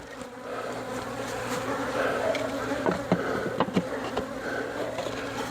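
Honey bees buzz in a steady, dense drone around a Flow Hive as its covers are closed, with a few louder passes of individual bees near the hive.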